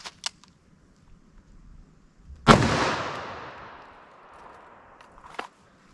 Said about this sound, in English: Now let's hit that with our 357 Magnum and see how that compares.